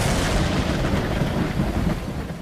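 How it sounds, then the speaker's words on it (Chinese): Thunder rumbles continuously over heavy, steady rain on a stormy night in the outskirts of Roswell, New Mexico, a dense and loud wash of noise with no pauses. "当晚雷声阵阵，大雨滂沱"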